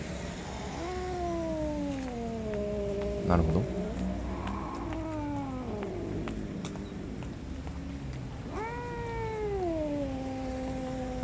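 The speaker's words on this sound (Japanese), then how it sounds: "猫。" A cat in the horror game DreadOut 2 lets out several long, drawn-out wailing meows, each sliding down in pitch, over a low rumble with a short thump between them. Someone speaks briefly at one point.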